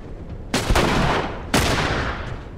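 Gunfire in The Last of Us: two loud, sharp blasts about a second apart, each trailing into a rattling decay, close and dominant with no voices.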